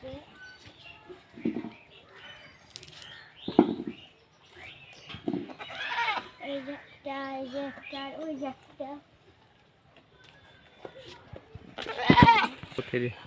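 Several goats bleat in short, scattered calls from close by, with a child-like voice and other talk mixed in between the cries.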